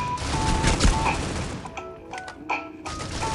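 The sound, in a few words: AK rifle gunfire in the video game Critical Ops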